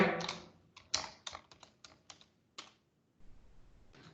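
Someone types on a computer keyboard, entering a short print command at a Python prompt: a burst of close, distinct keystrokes in an uneven rhythm, then a pause and a final cluster of clicks, with no speech.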